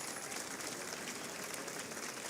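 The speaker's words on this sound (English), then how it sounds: "And Sasha Fenestraz gets a round of applause as he is out of the car" A crowd at the London E-Prix, a 2023 Formula E race, applauds driver Sacha Fenestraz as he climbs out of his car, a steady, distant wash of clapping with no voices over it.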